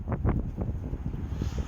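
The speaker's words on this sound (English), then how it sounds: "we got like 70-mile-an-hour winds going on, and it's just constant with the huge gusting." Strong, gusting wind of around 70 mph buffets a microphone in a workshop setting, producing loud, irregular low rumbles and thumps that pulse in rapid bursts.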